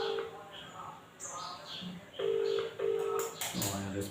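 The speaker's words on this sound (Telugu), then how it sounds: "ఫోన్ రింగ్ అవుతుంది." A phone ringing on an outgoing call sounds through a handset speaker, repeating ring tones in short bursts with brief gaps, fairly quiet and slightly tinny.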